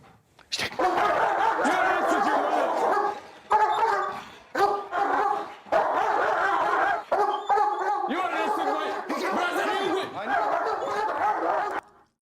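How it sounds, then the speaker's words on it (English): Several dogs bark excitedly and continuously, overlapping in loud, agitated bursts with brief pauses, close by. "second trainer is going to agitate the dogs and get them all riled up"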